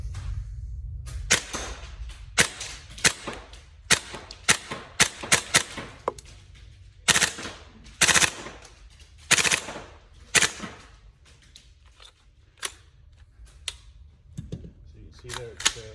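Repeated sharp shots from a Tokyo Marui MK18 gas blowback airsoft rifle firing BBs during a post-repair function test, in single shots and short rapid bursts with gaps between, close and loud, with a little talk in the background.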